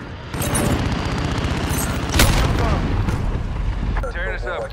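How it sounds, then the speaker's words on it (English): Gunfire in Call of Duty Modern Warfare pounds in dense, rapid bursts with heavy booms, loud and close, under a radio voice talking through the chaos. "we're taking some fire"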